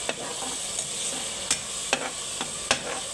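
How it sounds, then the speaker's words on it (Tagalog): Onion and garlic fry in a pan with a soft steady sizzle, broken by several sharp scrapes and clicks of a utensil stirring at irregular intervals. "Nataluhaluin lang po natin hanggang sa mag-golden brown na po sila."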